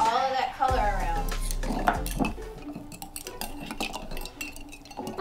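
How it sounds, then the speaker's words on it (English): Metal spoons stir food coloring in a container, clinking and scraping against the sides in quick irregular bursts, with a voice speaking faintly underneath. "let's take our spoons and gently stir to get all of that color around"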